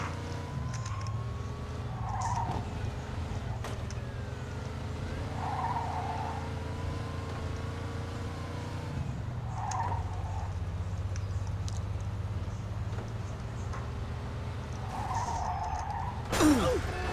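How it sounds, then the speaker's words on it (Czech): Video game Mafia II car chase: a fast car's engine drones steadily while tyres squeal and skid in repeated bursts every few seconds, with a sharper impact-like burst near the end, moderately loud. "Pronásleduju rychle jedoucí auto"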